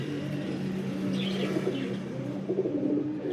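Long-flying racing pigeons coo in a low, continuous murmur close by, with faint chirps above and no talking.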